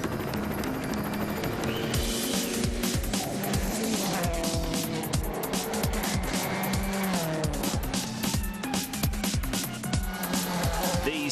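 Rally cars race flat out along a tarmac stage at the 2009 Rally de Catalunya in Spain, engines roaring continuously with repeated tire squeals and skids as they pass through corners, loud and close throughout.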